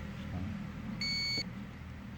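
A multimeter's continuity buzzer gives a single short electronic beep, high and steady, for about half a second over quiet background noise.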